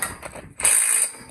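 A ratcheting wrench clicks quickly and steadily as a scaffold coupler on the doubles is tightened up close. A brief pause falls before a louder, denser burst of ratchet noise.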